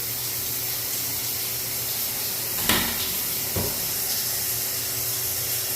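Water runs steadily from a bathroom sink tap with no overflow, a constant close hiss and splash draining into the basin, broken by a couple of brief knocks and no talk.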